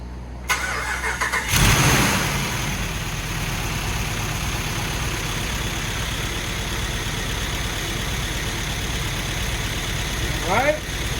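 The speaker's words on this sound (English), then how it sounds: "got a running engine" A Hemi 5.7 MDS V8 cranks briefly, catches with a loud burst and settles into a steady, rumbling idle that holds for several seconds, with a short whine near the end.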